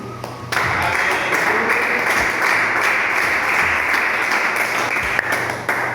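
A church congregation breaks into sustained, dense applause that starts abruptly and holds steady at close range for several seconds before tapering.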